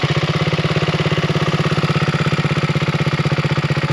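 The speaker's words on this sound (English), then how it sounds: "Let's listen to the engine" A BSA Rocket Goldstar motorcycle engine idles close up with a steady, rapid, even thumping pulse and a mechanical clatter, loud and alone throughout.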